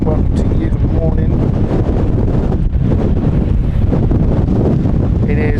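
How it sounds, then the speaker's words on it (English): Strong storm wind buffets the microphone at London City Airport, a loud, continuous low roar with gusty rumbling that stays heavy the whole time, with occasional faint voices in the background. "It is very windy"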